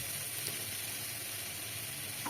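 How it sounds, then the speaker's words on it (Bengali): Fish paste mixture sizzling in hot mustard oil in a frying pan, a steady soft hiss throughout, fairly quiet and even, with no speech. "সর্ষের তেলটা ভালো মতো গরম হলে দিয়ে দিলাম এই মিশ্রণটা"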